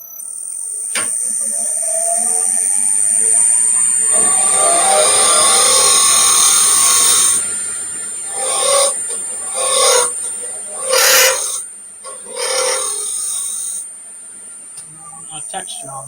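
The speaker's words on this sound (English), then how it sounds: "I'm going to drag that teardrop scraper across the front" A teardrop scraper rasps across spinning wood on a lathe, a close grinding scrape under a high motor whine, then several short scraping passes, with a voice speaking.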